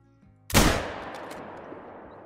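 A single sharp rifle shot fired at an animal in a hunting video game, loud and close, with a long echoing tail fading across open terrain; nothing else follows.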